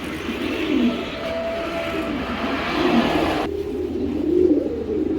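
Racing pigeons, a male and female pair, coo softly in a loft amid steady low ambient rumble and hum, with repeated gentle cooing calls throughout.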